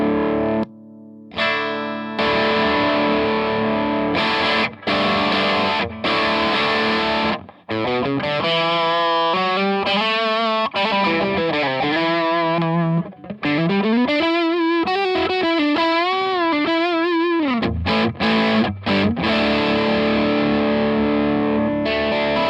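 Electric guitar played through a Donner Triple Threat pedal with the gain turned up, heavily distorted chords and sustained bending lead notes, loud and continuous with no talking.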